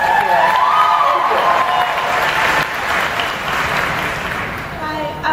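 A studio audience cheers and applauds loudly and continuously, a dense wash of clapping and shouts holding steady throughout.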